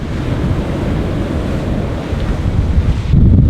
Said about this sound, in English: The ocean is loud.